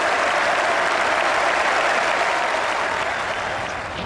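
Dense, loud applause from a large cricket crowd at Edgbaston greeting Flintoff's fifty during a 2005 Ashes Test, a steady roar of clapping that holds throughout and tapers slightly at the end.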